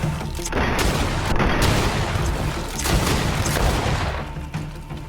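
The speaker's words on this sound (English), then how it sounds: "sounds of an explosion." Explosions in the GreedFall video game come as a dense, rumbling series of booms and blasts, loud and sustained with repeated heavy impacts and no voices.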